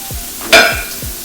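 Beef tips coated in seasoning sizzling in a hot pan, a steady close hiss with one sharp louder burst midway, as from stirring.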